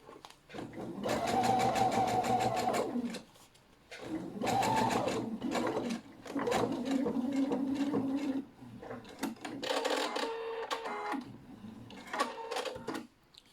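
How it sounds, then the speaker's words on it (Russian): A sewing machine stitching fabric for a textile, waterproof lid for salad bowls, running in several whirring bursts of a few seconds each, separated by brief pauses and lighter handling clicks. "И здесь нужно будет ее стачать."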